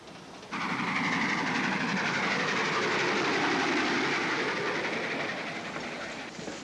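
A train rolls steadily along the rails with a continuous rumbling clatter, loud and close, beginning abruptly and holding for several seconds.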